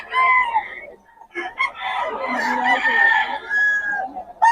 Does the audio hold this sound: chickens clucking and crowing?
yes